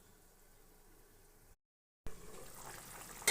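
Tengra fish curry with cauliflower and potato boiling in a covered pot, a soft steady bubbling hiss that cuts out briefly, then returns louder and more vigorous.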